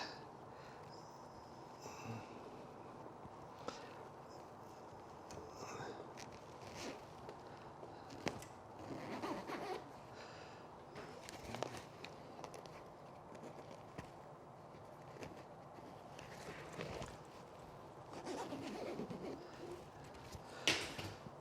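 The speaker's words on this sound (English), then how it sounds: "now you just need to pull the zippers down and around" Zippers on Katzkin leather seat covers in a 2021 Toyota Tacoma are pulled down and around, giving repeated short rasping zips amid rustling and handling noises, fairly quiet and close.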